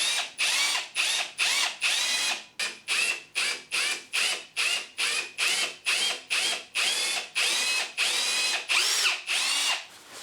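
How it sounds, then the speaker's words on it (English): A power drill fitted with a Trend countersink bit bores holes for a French cleat picture hanger, in repeated short loud whirring bursts of about half a second, each separated by brief pauses, close up with no talk. "So this time I'm going to use a trend drill bit and countersink."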